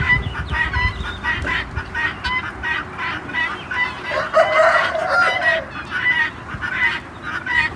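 Roosters crow repeatedly on a farm amid clucking chickens and other fowl, the calls overlapping and fairly close, with a continuous busy barnyard chatter throughout.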